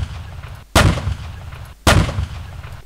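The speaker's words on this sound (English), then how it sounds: "We have the 30mm cannon of the Warrior." Warrior armoured vehicle's 30mm cannon fires two heavy, loud shots about a second apart. Each sharp blast is followed by a rumbling tail that decays slowly over a low engine drone.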